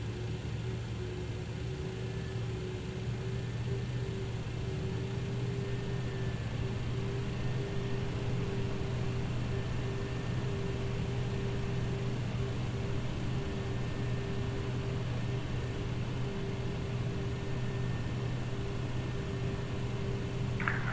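An MD-11F trijet taxiing in Microsoft Flight Simulator gives off a constant low engine rumble with a steady whine layered above it, unchanging and moderately loud.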